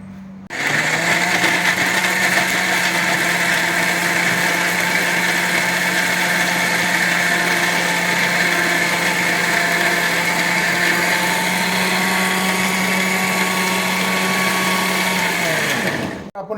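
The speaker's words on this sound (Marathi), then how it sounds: "आता हे मी मिक्सरला ग्राइंड करणार आहे बारीक" A mixer grinder runs steadily for about sixteen seconds, grinding tomato with Malvani masala into a fine paste for prawn curry, its motor whining loud and constant until it cuts off abruptly.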